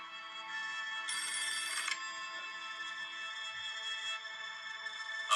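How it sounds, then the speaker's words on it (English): A telephone rings in the animated Thomas film Misty Island Rescue, giving a steady electronic ringtone with a brighter burst partway through that carries on for several seconds with no voices. "Then the telephone rang."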